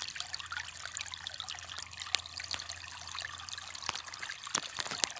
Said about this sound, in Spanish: que clase de chorro de agua está saliendo por aquí